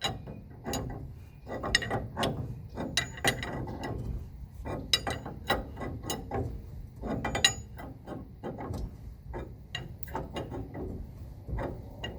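A ratchet tightens a lock nut onto a trailer hitch ball, with repeated bursts of rapid clicking and metallic clanks in an uneven rhythm, close and fairly loud, with no talking.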